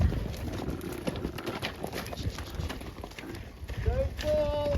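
A horse named Rolex, a foal on its big day out, thunders past with rapid, uneven hoofbeats on the ground, close and busy, while people talk and exclaim over it and a bird chirps near the end.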